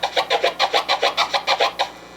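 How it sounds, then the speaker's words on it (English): Clean DJ chirp scratches on a turntable, about eleven quick, evenly spaced chirps in a steady rhythm that stop after roughly two seconds, close and fairly loud with no voice. "but this kind of chirp sounds a lot cleaner"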